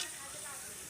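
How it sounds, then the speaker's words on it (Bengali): Cumin seeds dropped into hot oil for tempering give a brief, bright, steady sizzle, close and fairly quiet, cutting off abruptly. "এবার আমি ফোড়নের জন্য জিরে দিয়ে দিচ্ছি।"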